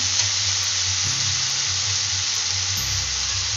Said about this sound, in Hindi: अब हम इसमें मसाले डालेंगे।